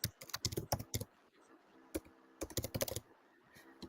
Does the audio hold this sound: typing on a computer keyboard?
yes